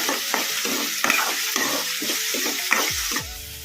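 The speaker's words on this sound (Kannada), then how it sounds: "ಮೀಡಿಯಮ್ ಫ್ಲೇಮಲ್ಲಿ ಇಟ್ಕೊಂಡು ಫ್ರೈ ಮಾಡ್ಕೊಂಬಿಡೋಣ ಉಳ್ಳಾಗಡ್ಡಿನ ಈ ಥರ ಕಲಿಸ್ಕೊಂತನೇ ಇರಬೇಕು" Onions fry in a pan over a medium flame, a steady sizzle close up with repeated scraping strokes of a spoon stirring them, no voices.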